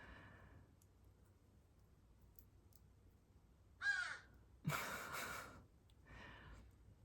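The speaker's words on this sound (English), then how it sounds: "my distraction with my intuition is that crow outside. Every time he squawks, I'm like, what was I saying?" A crow caws outside, sounding in three separate harsh bursts: a short one, a louder, longer one, and a fainter one after it, over a quiet room background with no talk.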